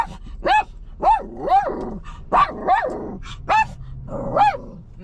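A dog named Matrix barks repeatedly and loudly up close, a steady run of about eight sharp, yappy barks with some growly edges, outdoors on a windy day.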